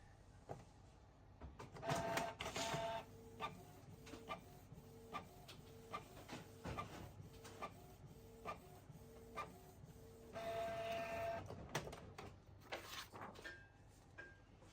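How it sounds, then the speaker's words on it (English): A Canon G3010 or G2010 inkjet printer runs through a nozzle check printing cycle: whirring carriage passes, regular mechanical clicks and ticks, and louder motor bursts near the start and end. "The printer will print a nozzle pattern so you can check if the print head nozzles are clogged"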